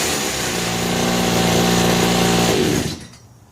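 A John Deere commercial-grade hedge trimmer's small two-stroke engine runs at a steady high-pitched buzz, loud and close, then cuts off abruptly near the end.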